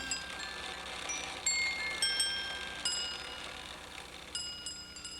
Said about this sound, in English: plays 6 different tunes on glass bells